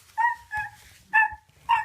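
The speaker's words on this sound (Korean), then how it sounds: "개는 무언가를 원하는 듯이 계속 주인을 향해 짖고 있습니다만" A small dog barks at its owner indoors, four short, high yelping barks spaced unevenly, close and moderately loud, with quiet gaps between them.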